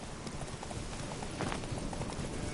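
The horse Roach gallops in The Witcher 3 video game, a quick rhythmic clip-clop of hooves over a dense, noisy game soundscape, steady throughout the short stretch.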